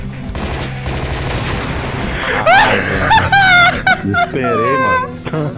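Gunfire in a competitive video game shooter match, bursts of shots ringing out loudly amid game effects while players talk excitedly over it.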